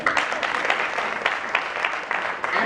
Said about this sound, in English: so if we can have one more round of applause for them